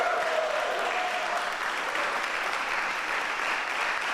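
Steady audience applause at a press event where the New Jersey governor and lawmakers announce a lawsuit, a continuous, fairly loud roar of clapping with no gaps.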